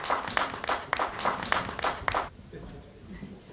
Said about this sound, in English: can we give a round of applause for Yuri Amsterdam?